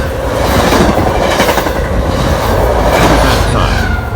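An Amtrak Northeast Regional train rushes past at high speed at Readville station, a loud, continuous roar of wheels and wind with faint clickety-clack rhythm sustained throughout, very close to the listener.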